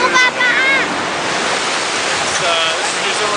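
Rushing water of the Waikato River in New Zealand near Taupo, a steady broadband wash with wind buffeting the microphone, heard close and continuous throughout.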